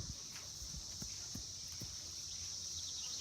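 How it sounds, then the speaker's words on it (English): Sheep walk closer on a small farm with a barn, chicken coop and bees nearby, the flock a mix of Blue-faced Leicester and Teeswater breeds; soft, irregular hoof thuds and footsteps sound over a faint high steady insect-like drone. "Here come the sheep."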